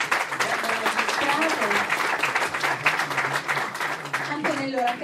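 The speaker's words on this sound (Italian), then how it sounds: "Vi prego un applauso." Steady applause from a crowd at an awards ceremony filling the whole clip, with a voice speaking Italian over the clapping near the end.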